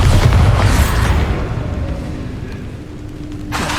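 Bombarda explosion spell cast in the video game Hogwarts Legacy: a loud, heavy blast up front that rolls off into a fading rumble, followed by a faint low hum and a brief swell at the end.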